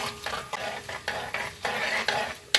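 Cumin and chana dal roast in hot oil while a spoon stirs them, giving short rhythmic scraping strokes over a light sizzle, close and fairly quiet, ending with a sharper clink.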